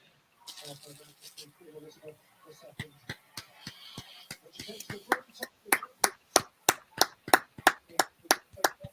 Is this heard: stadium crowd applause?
yes